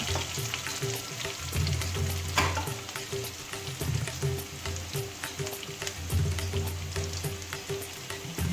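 Whole spices (bay leaf, cardamom, cinnamon and clove) fry in hot oil for dal khichdi, giving a loud, steady crackling sizzle with occasional stirring scrapes throughout.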